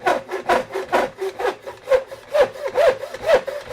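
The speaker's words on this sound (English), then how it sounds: "This is a nice saw." A hand saw rasps steadily through wood on a 45-degree shooting board, about two strokes per second, loud and close, with no other sounds.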